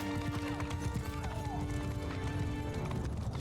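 Cavalry horses gallop in Mount & Blade II: Bannerlord, with dense rapid hoofbeats, a whinny and battle noise running throughout, loud and close.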